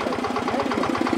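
A small micro tractor engine idles close by with a fast, even chugging pulse that stays steady for the whole moment, with no voices.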